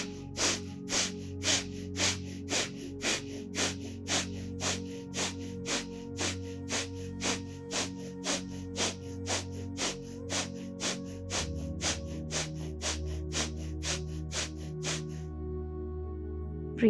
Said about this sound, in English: Breathe in and we start.